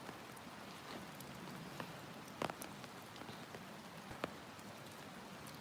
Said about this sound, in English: And it's gently raining here.